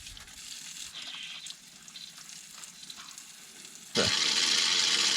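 Water and air rush out of a tubeless Kubota 3301 tractor tire valve while the tire is being filled with water ballast. A low trickle is followed by a sudden, loud, steady hiss of escaping air.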